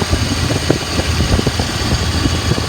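A 1995 Ford F-350 XL cab and chassis with a 7.5L gas engine idles steadily up close, a continuous low rumble with fan whir and no talk over it.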